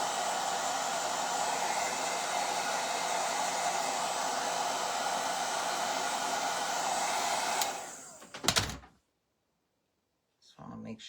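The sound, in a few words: hair dryer drying a stained wooden bunny toy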